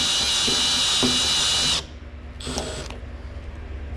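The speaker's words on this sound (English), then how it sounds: "we will continue drilling further down" A power drill with a step bit whines steadily at high pitch as it bores through the metal roof of a first-generation Toyota 4Runner, then cuts off, leaving a quieter rumble with a brief second burst.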